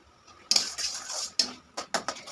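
A spoon scrapes and knocks against a pan as thick kharkol paste is stirred, a few distinct scraping strokes and clacks at close range with no talking.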